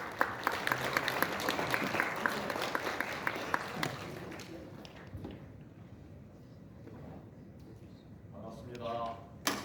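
Audience applause at a Korean patriotic award ceremony marking a national founding anniversary, a dense burst of clapping from a large indoor crowd that fades after about four seconds into room murmur and a few scattered claps.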